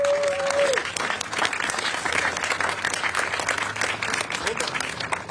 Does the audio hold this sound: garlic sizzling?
no